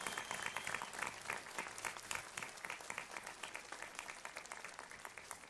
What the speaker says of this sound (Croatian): Još jedan aplauz za Nemanju, naravno